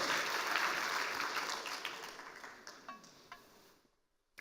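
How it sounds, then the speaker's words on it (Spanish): Applause from a church congregation, a steady wash of clapping that slowly thins out with a few last scattered claps before falling silent. "Le damos un aplauso al Señor"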